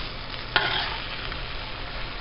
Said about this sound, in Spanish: ahora en este momento vamos a agregar los guajes, que se empiecen a sazonar con la carne.